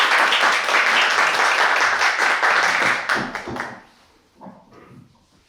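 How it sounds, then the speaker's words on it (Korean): A church pastors' seminar audience applauds in a loud, continuous burst welcoming a speaker. The clapping fades after about three seconds, leaving quieter scattered sounds. "박수로 환영드리겠습니다"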